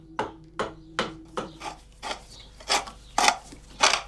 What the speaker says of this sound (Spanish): vaciar la albarca en la parte que alojará al pie, picando la madera con el peto de la azuela